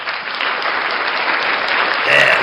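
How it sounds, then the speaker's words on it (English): Applause from a crowd at a live morning show, steady dense clapping held throughout at close range and swelling slightly at the end. "Round of applause for NCR News Network."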